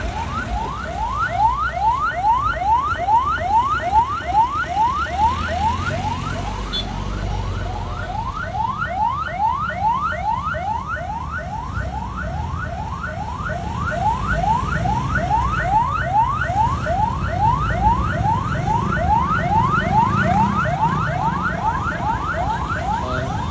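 An ambulance siren wails in a fast, repeating rising sweep, loud and steady for over twenty seconds at the scene of a collision between ambulances, with a low rumble of traffic and crowd underneath.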